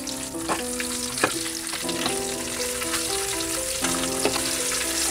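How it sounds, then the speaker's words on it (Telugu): Boiled eggs fry in a pan and are turned over for an egg curry, a loud continuous sizzle under a faint tonal hum, punctuated by a few sharp clatters as the eggs are flipped. "వేగిన తర్వాత దాన్ని మళ్ళీ తిరగవేసుకోవాలండి. చూడండి, మనకి ఇలా అయితే వేగేయండి. గుడ్లన్నీ ఇలా తిరగవేసుకోవాలండి."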